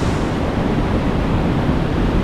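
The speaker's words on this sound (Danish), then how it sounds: "Der er godt gang i vandet her." Sea waves surge against the shore at Malaga, a steady, loud, broadband roar of surf that fills the whole stretch with no talk over it.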